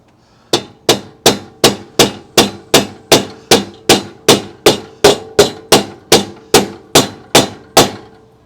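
A hammer taps an old Mercedes-Benz body panel about seventeen times in an even, quick rhythm, each sharp metallic strike loud and close with a short ringing decay.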